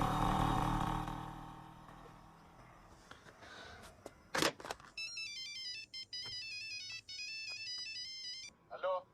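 A mobile phone ringtone in a Hindi film scene, a bright repeating electronic melody that starts midway and rings in steady phrases with short gaps, clear and close after quieter background sound.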